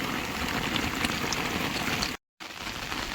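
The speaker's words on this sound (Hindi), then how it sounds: "और बारिश देख लो कितनी बढ़िया पड़ गई है।" Heavy rain pours down on a farm field in a steady, dense hiss that stays constant, then cuts out briefly near the end before returning.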